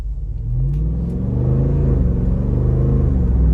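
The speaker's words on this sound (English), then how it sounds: "let's go ahead and take this 2024 Wrangler Rubicon 392 out on the road for a test drive" A 2024 Jeep Wrangler Rubicon 392 V8 pulls away with a deep, loud engine rumble that swells steadily as it accelerates, heard from inside the vehicle with no talking.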